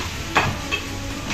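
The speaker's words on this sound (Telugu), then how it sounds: "గోల్డెన్ కలర్లోకి వచ్చేంత వరకు ఉల్లిపాయ వేసి బాగా ఫ్రై చేసుకోవాలి" Onion frying in a pan for fish curry, a close, steady sizzle with a few soft stirring scrapes over a short stretch.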